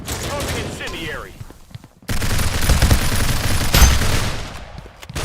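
A SAW light machine gun fires in the mobile shooter Critical Ops during a competitive playoff match, heard as dense, loud bursts of rapid gunfire. Other game noise joins in, and a voice is briefly heard early on.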